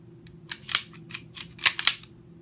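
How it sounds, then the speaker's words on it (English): Smith & Wesson Performance Center 1911 pistol handled and dry fired, giving a close, loud cluster of sharp metallic clicks and clacks in two quick groups. "There's nothing in the chamber, so we can safely dry fire it."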